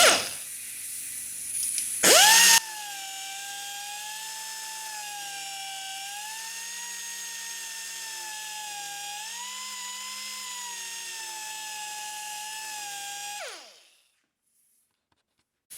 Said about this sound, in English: right angle central pneumatic random orbit sander, and I get the air compressor going